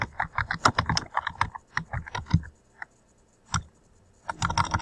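Rapid bursts of keystrokes on a computer keyboard, typed in quick runs with a pause in the middle before a final burst, close and clear with no talking.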